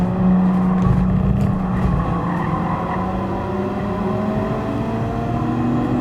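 Race car engine in Gran Turismo Sport droning steadily at high revs, with pitch sweeps as gears change, loud and close throughout with no talk.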